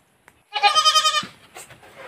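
Young goats bleat in a loud, close, wavering cry lasting most of a second, then softer bleats and stirring follow, with no talk.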